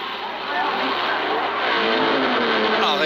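Ferrari race car number 19 at the 1962 Le Mans 24 Hours, engine revving and swelling as it pulls away from a pit stop, loud and close, with someone talking over it.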